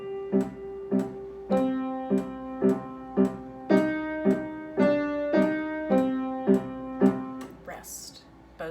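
Drum pattern played with both hands on what sounds like a pitched, ringing percussion instrument during practice. About a dozen evenly spaced struck notes come in a steady rhythm with resonant overtones, and a brief noisy rustle follows at the end.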